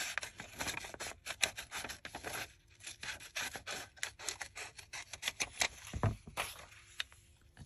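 Scissors snip and scrape through an altered playing card for a journal embellishment, a close series of quick irregular cuts and rustles with no talking.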